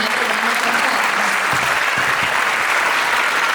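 Audience at a Chinese New Year 2024 performance giving another round of applause, a loud, continuous wash of clapping from a sizable crowd, with a few low thumps and a brief voice underneath.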